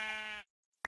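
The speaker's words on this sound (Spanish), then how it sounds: "Oveja, oveja." A single sheep bleats in Minecraft, a short wavering cry up close, followed by a brief silence and one sharp click-like sound.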